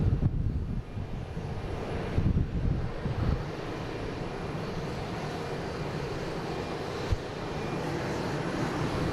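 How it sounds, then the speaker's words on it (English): American flight 1577 from Dallas Fort Worth arriving at Boston Logan in wet weather, a steady broad jet roar with wind rumble, moderately loud and sustained with no talk. "There's American coming in from Dallas, Fort Worth."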